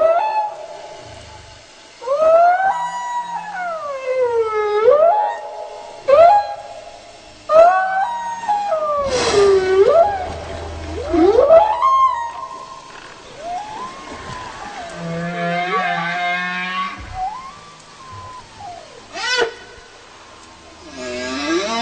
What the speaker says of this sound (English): And so the whale songs could sound like this right here.